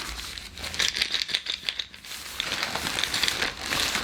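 Continuous plastic crinkling and crackling from bubble wrap being handled close by, with bursts of sharper rustles throughout.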